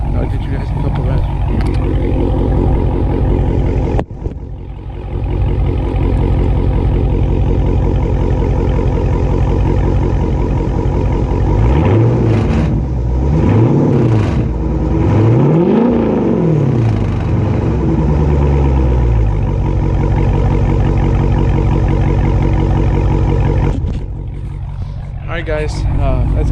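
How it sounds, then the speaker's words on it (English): Car engine revved from idle by its owner, a steady loud idle broken by a few rising-and-falling rev sweeps in the middle, close to the microphone, with no talking. "I'll get you guys a couple revs."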